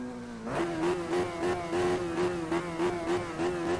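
A Radical SR3 race car with a 1340cc bike engine, driven around Imola in a racing video game, revs in rhythmic, buzzy surges that rise and fall steadily, loud and close.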